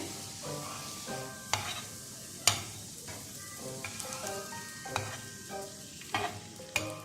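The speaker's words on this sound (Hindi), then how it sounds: "शामी कबाब को हमने हल्की फ्लेम पर फ्राई करना है ताकि ये अच्छे से क्रिस्पी हो जाए" Shami kebabs shallow-frying in a pan on a low flame, a soft sizzle under scattered clicks and clinks of a utensil, with a few sharper taps.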